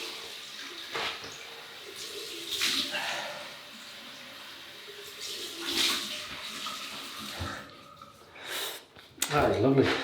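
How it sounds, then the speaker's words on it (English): Cold water splashed and rinsed over the face after a shave with a Merkur 42c safety razor, intermittent splashes and dripping with snorts and breaths, close and moderately loud. "Cold water rinse."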